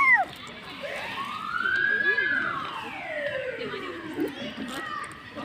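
A police car siren wails in long rising and falling sweeps at moderate distance, carried over a park where children are playing and voices chatter in the background.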